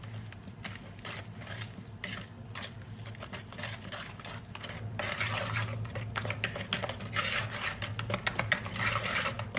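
A whisk beats three eggs into a batter for individual semolina almond cakes, giving a soft, steady wet swishing with light clicks against the bowl that grows a little busier toward the end, fairly quiet and without talk.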